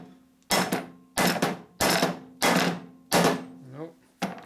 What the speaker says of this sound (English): I'm going to try knocking it out with a plastic hammer right here